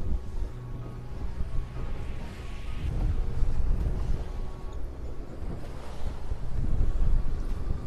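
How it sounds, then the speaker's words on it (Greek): Strong wind buffets the microphone over steady rushing water and breaking waves at sea during the Andros international yacht race, with the roar swelling around the middle and again toward the end, close and continuous with no talk. "ιδιαίτερη αυξημένη ένταση ανέμου και το κύμα έχει δυναμώσει όσο απομακρυνόμαστε"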